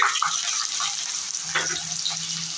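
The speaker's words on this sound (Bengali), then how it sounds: "সাদা তেলে দিয়ে দিচ্ছি ঘি দিয়ে দিচ্ছি পেঁয়াজ কুচি" Chopped onions fry in white oil and ghee with a loud, steady sizzle and crackle, close up, and a spoon stirs them once or twice about midway, with no talking.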